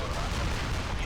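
Dense gunfire and explosions in the Forged Battalion strategy game as a desert turret is destroyed, a loud continuous burst of booming shots in one short stretch.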